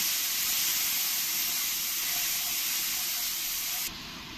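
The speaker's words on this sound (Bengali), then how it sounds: "এবার পেঁয়াজ বাটাটা দিয়ে আমি ভালো করে 2-4 মিনিট ধরে আমি কষিয়ে নেব।" Onion paste sizzles in a hot pan while being fried for a Bengali-style fish curry, a steady, loud, hissing crackle that holds evenly before dropping slightly near the end.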